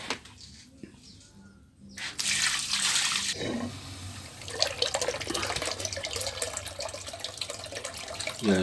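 Water being poured out of a container while rinsing ion exchange resin, a splashing, gushing flow that starts after a quiet moment and continues with trickling and sloshing close by.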